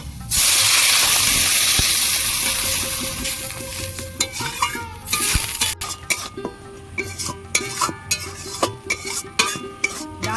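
Water poured onto dal frying in a pan sets off a loud, bursting sizzle that slowly fades into steady hissing, with metal spoon clinks and scrapes from stirring spaced through the second half.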